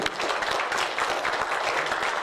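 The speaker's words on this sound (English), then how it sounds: "a round of applause for room 73." A school assembly crowd of children and staff claps steadily for a classroom, a dense, continuous patter of many hands at even loudness throughout.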